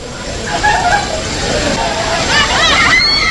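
People swim and splash in a clean resort swimming pool at a white beach in La Union. Soft sloshing water and babbling voices mix throughout, with children's high shouts rising toward the end.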